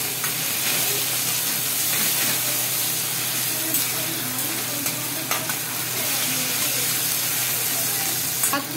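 Chopped onions and thecha, a coarse green chili paste, sizzle and fry steadily in hot oil while being stirred for a Khandeshi-style baingan bharta, a dense continuous hiss close up with no talking.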